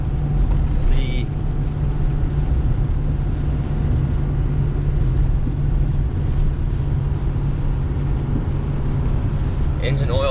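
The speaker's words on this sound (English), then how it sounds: "So that really helps the truck not feel heavy on these climbs like this." Heavy, steady engine drone from a 2021 Ford F450 truck in seventh gear pulling a heavy load up a hill, a continuous loud low rumble with road and wind noise throughout and brief faint sounds near the start and end.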